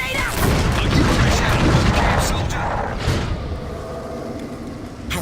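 A grenade goes off during a firefight in the first-person shooter Clive Barker's Jericho, making a heavy, rumbling boom that rolls out and fades over several seconds beneath game sounds.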